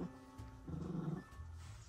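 A dog growls indoors in low, rumbling bursts, close by and fairly quiet, with a short break between the first growl and a longer, stronger second one.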